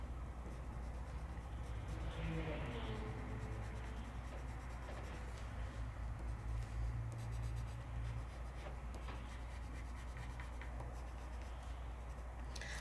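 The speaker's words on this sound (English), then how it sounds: "I'm going to take this black and I'm going to kind of draw along." A black watercolor pencil scratches steadily across paper while drawing around the outline of a watering can, a continuous close dry rubbing with small shifts in pressure and a low background hum.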